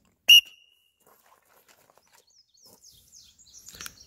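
A whistle blown to start a shooting drill at a range in Rock Castle, Kentucky gives one short, sharp, loud blast near the start, followed by quiet, then faint shuffling and light movement.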